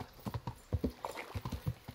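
Horse hooves clip-clop in the medieval open-world game Kingdom Come: Deliverance, a steady run of close, distinct hoof strikes on hard ground, fairly quiet with no voices over them.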